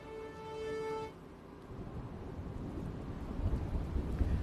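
A short steady tone gives way to heavy, continuous afternoon downpour in Nakhatrana, Gujarat, with a deep rumble of thunder underneath, growing louder toward the end.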